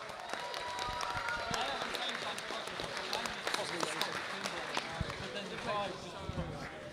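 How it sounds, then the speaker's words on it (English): Applause and scattered claps rise from the crowd at a beetleweight combat robot tournament in Bristol, a busy mix of individual claps and murmur under talk and a fairly loud, close voice. "Ladies and gentlemen, a big round of applause for Stratus."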